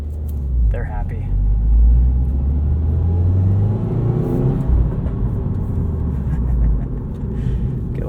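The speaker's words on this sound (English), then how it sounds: "Get a little pop from the exhaust there." A white 2020 Subaru WRX Premium accelerates with a deep, rumbling turbo engine note that rises and falls, and a brief sharp pop from the exhaust early on; a voice is present alongside the engine.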